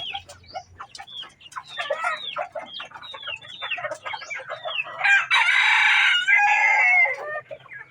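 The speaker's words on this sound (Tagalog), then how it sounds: "Ito mga panabong to ha." Gamecock roosters (panabong) on a rural Philippine farm, one crowing loudly and close with a long drawn-out call amid a run of rapid, overlapping clucks and short bird calls, no talking.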